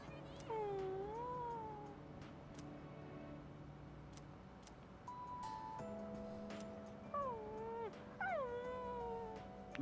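A dog in the video game Persona 3 Reload whimpering in soft, wavering whines that bend up and down, spread across several seconds over a low steady background hum.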